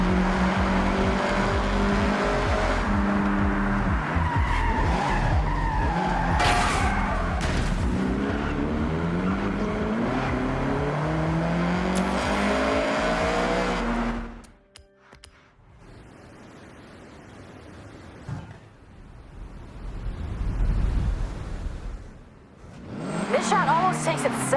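A Mugen CRX with retro wheels revs and races in Forza Horizon, engine note climbing through repeated gear shifts for about fourteen seconds, then cutting to quieter, sparse sounds and a short return of engine noise.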